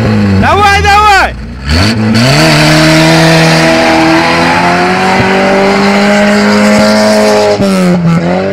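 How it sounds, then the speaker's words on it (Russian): Car engine revving hard and accelerating close by, with rising and falling pitch sweeps, tire squeal and loud shouting voices over it throughout. "Покажи, что может Настя машина!"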